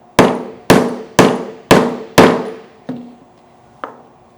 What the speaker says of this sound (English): give it a few taps with our rawhide mallet